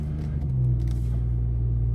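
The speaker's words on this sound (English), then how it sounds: "But let's just start the car," A 2016 BMW 340i M Sport F30 engine turns over and settles into a low, steady idle rumble, heard close and continuous with a slight swell partway through.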